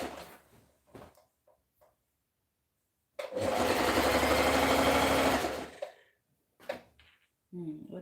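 A sewing machine runs in one steady burst of about two and a half seconds, stitching fabric for a top and skirt with a half-inch seam and backstitch, between quieter handling clicks and bits of nearby talk.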